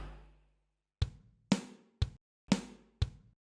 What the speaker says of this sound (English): but it's switching between the kick and the snare.